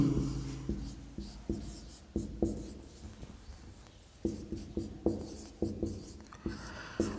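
Marker or chalk writing on a board during a calendar reasoning lesson, a run of close scratchy strokes and taps in irregular bursts, with no talking over them.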